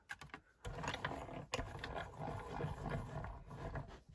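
A manual die-cutting machine is cranked by hand, giving a continuous grinding, ratcheting mechanical churn after a few sharp clicks at the start, close and fairly loud, with no voices.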